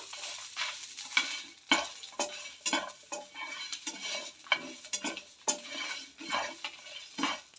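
Coconut, coriander, chilli and tamarind being stirred in a pan over low flame, with garlic added: a steady run of scraping spoon strokes and soft rustling over a faint sizzle, nearby and moderately loud.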